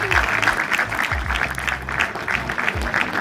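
A crowd applauds at a youth football talent event. The clapping is steady and moderately loud throughout, with low background tones and some talk underneath.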